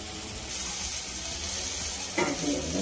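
Surmai fish fries in a pan over medium gas heat, giving a steady close sizzle throughout that swells louder near the end as the pieces are turned.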